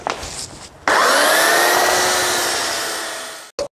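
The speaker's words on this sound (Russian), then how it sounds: "Сейчас грубой шлифовкой пройдем сразу же поверху с двух сторон." A power sander starts abruptly and whirs steadily for several seconds while rough-sanding the surface of an epoxy resin table, its pitch easing slightly before it cuts off, followed by a couple of short scrapes.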